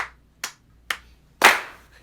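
Four separate hand claps from a mixed virtual ensemble track, spaced roughly evenly, the last one louder and fuller, crisp and close with quiet gaps between.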